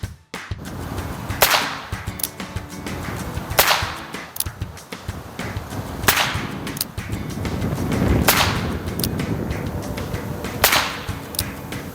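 A cap-and-ball revolver fires homemade double-layered 0.015-inch aluminum percussion caps outdoors in wind, giving about six sharp, loud cracks spaced roughly two seconds apart over a rumbling background.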